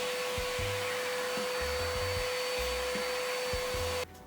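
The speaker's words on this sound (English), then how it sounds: "And then we vacuum up all the debris that was roughed up by the wire brush." A vacuum cleaner sucks up foam board debris with a steady high whine and airy roar, close up, with soft low bumps as it moves, cutting off at the end.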